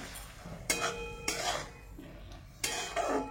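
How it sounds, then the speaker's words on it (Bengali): Kulekhara greens and potatoes are stirred in a pan: a few close scraping and clinking strokes of a spoon against metal, each stroke a short burst over a steady background hiss. "ভালো করে উপর থেকে নিচে অব্দি এটা একটু নেড়ে চেড়ে নেব।"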